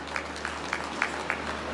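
Sparse applause at an investment summit plenary session: about five separate hand claps in an even rhythm, fairly faint, over a steady low hum.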